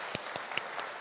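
A church congregation applauding, with four or five distinct loud claps spaced evenly through a short second, sharp and close with quiet gaps between them.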